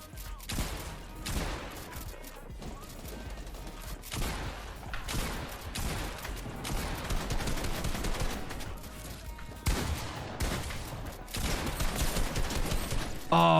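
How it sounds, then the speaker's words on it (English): Dense video game gunfire from a build battle, with loud bursts and volleys of shots crashing in irregular clusters over about fourteen seconds, mixed with busy game sounds and some voice underneath. "a player named Rubix loses the advantage in a last-minute build battle and ends up getting shot in the end"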